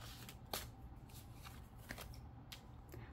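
Tarot cards being shuffled close up and quietly, a few soft riffling flutters and crisp snaps spread across a low background, with no voices.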